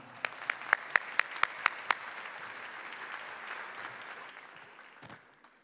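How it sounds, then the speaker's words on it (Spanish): Audience applause at a cultural policy forum panel, opening with about seven sharp, separate claps before swelling into a dense wash of clapping that gradually fades away. "Un fuerte aplauso y comenzamos."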